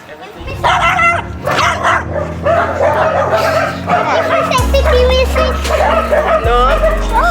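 Young puppy named Rico giving a few yips and barks close by at a first birthday gathering, with people talking over and around it throughout.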